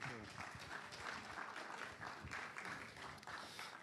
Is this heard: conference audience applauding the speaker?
yes